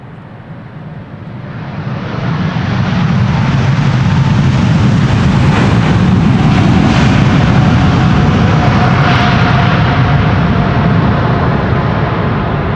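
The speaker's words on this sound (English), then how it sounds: "Emirates flight 149, arrival from Dubai." Emirates airliner arriving from Dubai at Amsterdam Schiphol, a loud broadband jet roar building over the first few seconds and then holding steady as the aircraft passes near.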